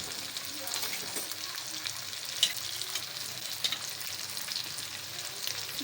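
Chicken karahi fries with tomatoes and whole green chillies, a steady close sizzle and crackle with a few sharper pops and faint stirring.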